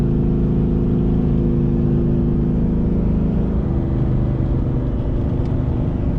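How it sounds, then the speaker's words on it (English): Steady low engine rumble and exhaust drone heard from inside a truck fitted with a 3400 stall torque converter, loud and continuous, with a slight shift in pitch partway through. "Hopefully you can get the sound of the interior exhaust."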